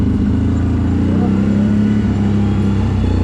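A CFMoto 1000 ATV descending a steep downhill trail under engine braking, its engine holding a steady, loud, low droning note throughout with no pauses.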